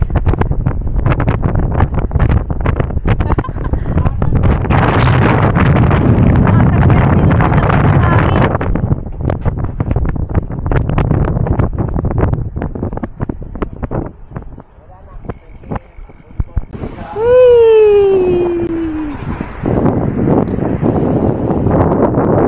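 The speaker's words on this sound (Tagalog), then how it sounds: "Ang lakas ng hangin." Strong gusts buffet the microphone on a bike ride from Baguio to Sagada, a loud roaring rumble that surges and drops, with brief talk and a sharp whistle-like sweep near the end.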